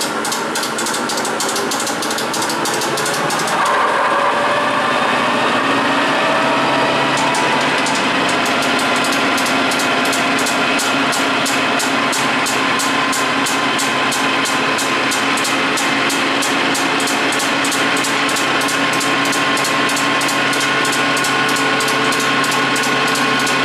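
A capstan lathe runs in gear at 1000 RPM in a workshop, machining drilled and tapped parts for a Land Rover, producing a loud, steady mechanical whine with a fast repetitive ticking and gear hum that continues throughout.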